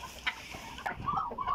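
Newly bought hens on a farm give several short clucks and low, warbling calls close by over about a second and a half, with no speech.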